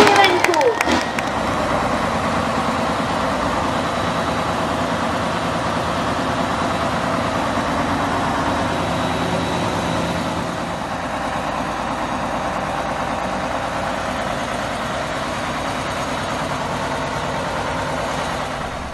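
A Tatra truck with a torn-off steering rod, a removed leaf spring and a missing wheel sits idling, its engine a steady low rumble throughout, close and loud, with a faint voice early on.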